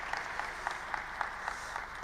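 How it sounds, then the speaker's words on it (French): An audience applauds with faint, even clapping that carries a loose rhythm of individual claps, heard only for a couple of seconds. "Des applaudissements."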